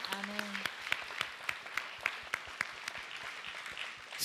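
A church congregation applauds in worship, a fairly quiet patter of distinct hand claps with a few louder strikes, and a voice briefly sounds at the start.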